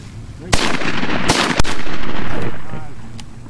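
Shotgun blasts during a December duck hunt for greenheads and pintail, several sharp loud reports within a few seconds, booming and echoing outdoors at close range.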